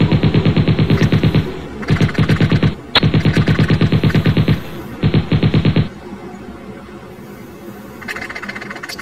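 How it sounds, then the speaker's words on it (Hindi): Loud bursts of rapid cartoon machine-gun fire come in several long rattling volleys separated by short gaps, then fade into a quieter rumbling background. "ये देखो फिर से मशीन गन आ गई"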